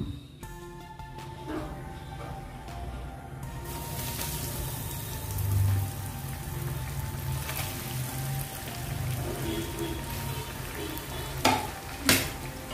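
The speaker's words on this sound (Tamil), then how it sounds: "இதே மாதிரி மீதி இருக்கிறதையும் நம்ம பொரிச்சு எடுத்துடலாம்" Potato fries frying in hot oil: a dense, steady crackling sizzle running throughout, close and even, with a few sharper clinks of a utensil near the end.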